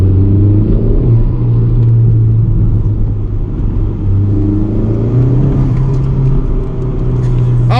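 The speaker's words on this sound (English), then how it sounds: "let's hear some turbo" A turbocharged car engine runs close and loud with a steady droning rumble and rising and falling revs, and a brief whistling whoosh near the end.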